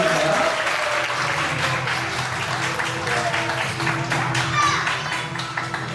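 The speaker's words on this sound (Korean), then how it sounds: "예은이를 위해서 박수 한번 부탁드립니다." Guests at a child's first birthday party applaud together, a sustained round of clapping that gradually thins out, with a voice briefly audible over it.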